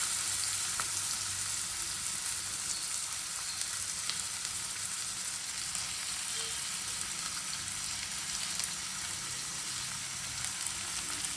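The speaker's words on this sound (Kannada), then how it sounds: "ಆಯಿಲ್ ಹಾಕ್ಕೊಂಡಿದ್ದೀನಿ. ಈಗ ಈರುಳ್ಳಿ ಹಾಕ್ಕೊಳ್ಳೋಣ." Onions fry in oil in a pan for masala rotti, giving a steady, close crackling sizzle that runs unbroken throughout, with faint stirring and no voices.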